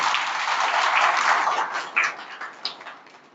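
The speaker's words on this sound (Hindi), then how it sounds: "इनके लिए जोरदार ताली" Applause from an audience honouring local residents of Nagrota at a police felicitation event, a dense burst of clapping that thins out into a few scattered claps by the end.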